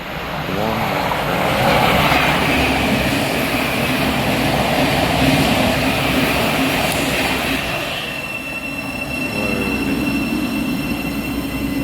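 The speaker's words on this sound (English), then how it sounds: "a 717 coming in" A Class 717 train pulls into Welham Green station, a loud close rumble of wheels on rails with squealing tones and a rising electric whine that settles as it slows, with a voice speaking briefly.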